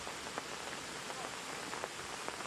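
Heavy rain pours steadily onto a golf course in Ansan during a tournament round, a dense continuous hiss with scattered sharper drop impacts throughout and no voices.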